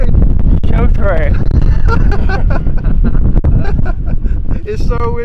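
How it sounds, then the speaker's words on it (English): Strong wind roars and buffets the microphone at the top of the Col de Rates mountain pass, loud and constant beneath excited voices talking throughout. "It's so windy up here."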